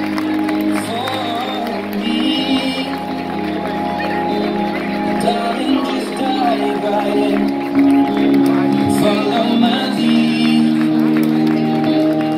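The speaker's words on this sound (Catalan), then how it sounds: "Un fort aplaudiment per a Eric Casellas Biscard" A crowd at a town festival presentation claps and cheers steadily, a broad wash of applause with scattered shouts, while an announcer's voice carries over it.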